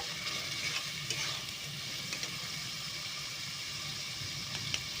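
A paste of ginger, onion, garlic and green chili fries in a pan for chicken kosha. It gives a continuous close hiss and sizzle with light scraping from stirring and a few soft clinks, and no voices.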